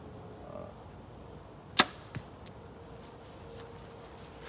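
A single arrow loosed from a bow outdoors on a windy day: one sharp, loud snap and thump, followed by two fainter knocks as it strikes, then quiet wind.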